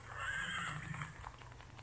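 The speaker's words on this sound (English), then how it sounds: "I'm trying to kill this horse for my love." Horse neighing in a video game, a single close, clear whinny that rises and wavers for about a second before trailing off into faint hoof-like knocks.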